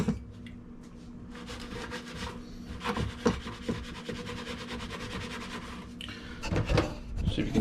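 A loaf pan half filled with banana bread batter is shaken around, producing a steady rubbing, rattling scrape that carries on for several seconds with brief louder knocks and no talking.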